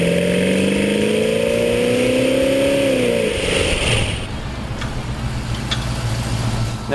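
A Chevrolet El Camino's freshly swapped engine revs up steadily and strongly, then drops back to a rough, rumbling idle that runs on, loud and close, with no talking.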